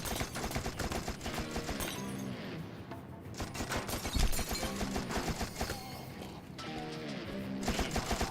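Bursts of Tommy gun fire in the first-person shooter You Are Empty, rattling automatic volleys that come in several runs mixed with clanking game sounds, steady and fairly loud throughout.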